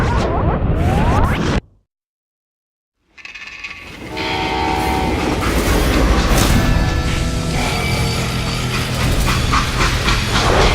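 A train in the video game Call of Juarez rumbles and clatters loudly with horn-like tones, cut by a brief silence before the rolling noise returns and continues.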